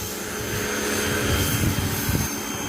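A pressure washer blasts dirty paving tiles outdoors near a road, giving a steady, hissing mechanical roar with a faint spraying texture and a low motor hum throughout.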